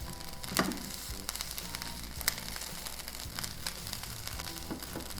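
Eggs fry in a hot wok as they start to brown, giving a steady close sizzle with scattered pops and crackles, with no talking.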